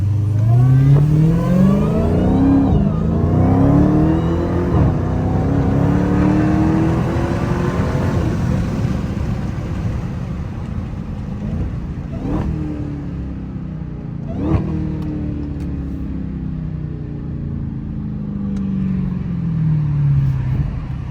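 A Dodge Hellcat accelerates hard while racing on a rainy road, heard loud and close from inside: the engine revs up through rising gear sweeps, with brief shifts and a sustained roaring pull that eases and builds again.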